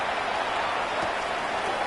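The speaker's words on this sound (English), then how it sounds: "he drives this into the pouring rain" Steady broadband hiss of heavy, pouring rain during an outdoor football game, constant and fairly loud with no voices or distinct crowd sounds over it.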